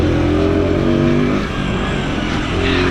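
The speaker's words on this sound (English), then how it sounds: "this is second gear, it's bogged down, just chugging up it" A Sherco TY125 motorcycle engine chugs steadily, bogged down in second gear on an uphill, a loud, close, labored rumble that holds a constant, heavy pulse throughout.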